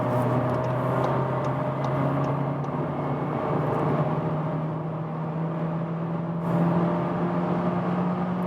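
Seat Leon Sportstourer estate with a 1.5 TSI petrol engine pulling hard in third gear from speed, a steady engine drone slowly rising in pitch under road and wind noise, heard from inside the cabin.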